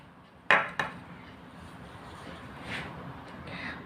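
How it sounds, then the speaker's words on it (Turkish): A utensil mixing baking soda into flour in a bowl for konken börek dough gives two sharp, close clinks near the start, then quieter scraping and rustling. "Onu unun içine karıştırıyorum."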